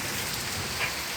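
Steady, dense rain falls over an outdoor scene as an even, close hiss with no voices.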